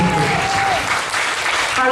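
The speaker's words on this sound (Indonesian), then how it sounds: "Mana tepuk tangannya bagi Yesus?" A church congregation at a church dedication in Manado applauds for Jesus, a loud, continuous crowd of clapping hands with a voice briefly sounding over the applause near the start.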